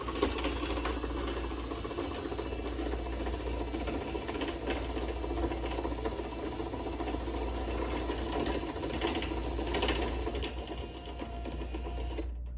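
A Linear LDCO800 garage door opener motor runs steadily with a continuous mechanical whir and faint gear ticking, fairly quiet and alone, with no talking.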